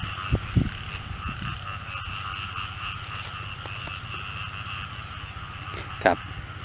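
Frogs croak during rain outdoors: a couple of throaty croaks near the start and another around six seconds, set against a constant hiss of rain and background chirring.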